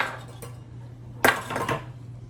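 A Pampered Chef Easy Measure cup scooping peanut butter, with a sharp clink of utensil against container midway followed by scraping and handling noises, close and alone.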